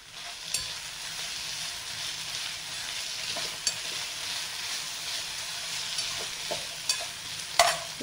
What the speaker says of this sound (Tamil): இதே கொத்தமல்லி கொஞ்சம் போட்டு இதையும் சேர்த்து வறுத்து எடுத்துக்கணும்.